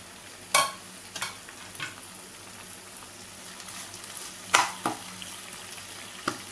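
Tomatoes and onions fry in a pan under a steady low sizzle, broken by a few loud scraping stirs and clinks of a spoon against the pan at irregular intervals.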